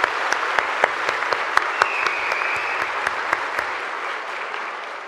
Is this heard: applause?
yes